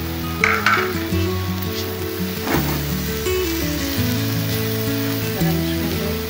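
Eggs fry with puffed rice in a pan, a steady loud sizzle close by, broken by the scrape and clatter of stirring.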